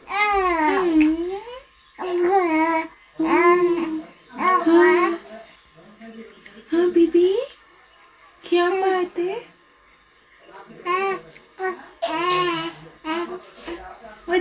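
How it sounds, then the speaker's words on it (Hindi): A two-month-old baby babbles in drawn-out vowel sounds, coos and squeals, bursts separated by short pauses, close and fairly loud. "आपको उसके मुंह से जो बेबलिंग होती है आ ए उ इस टाइप की आवाज़ आना स्टार्ट हो जाएगी"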